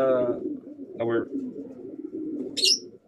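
Soft, low racing pigeon cooing close by, mixed with someone talking and a short high chirp near the end.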